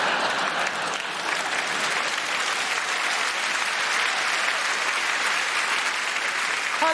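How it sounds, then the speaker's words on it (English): A comedy club audience in Manchester applauds in a dense, steady roar of clapping that holds at an even level throughout, with no talk over it. "thanks for the applause"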